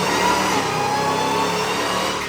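Jeep Trackhawk engine held at a steady, loud drone on a dyno, a continuous mechanical roar with a whining tone on top and no breaks or voices.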